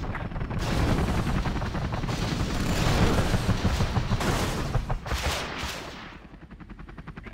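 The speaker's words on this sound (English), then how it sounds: "Particle cannon ready." Rapid bursts of weapon fire, like a particle cannon in the real-time strategy game Command & Conquer Generals Zero Hour, crackle loudly and continuously for several seconds before tapering off.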